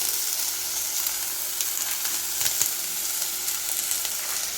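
Green chilies and curry leaves hit hot oil in a pan for a Kerala fish curry, a steady bright crackling sizzle with scattered pops, close and continuous throughout, no voices.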